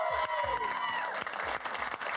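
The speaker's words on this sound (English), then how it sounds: "Let's give him one more round of applause from the studio audience, guys." A studio audience applauds the Madden 20 NFL Club champion at a gaming competition, a moderate round of clapping with some crowd noise and a voice talking over it.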